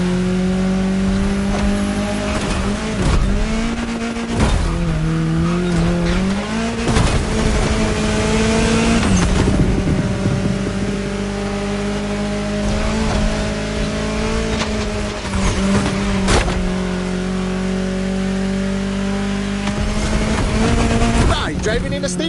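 A car driving through a Hawaiian state capital in The Crew Motorfest, its engine droning loudly and shifting pitch as it accelerates and changes gear, with a narrator's voice talking over it throughout.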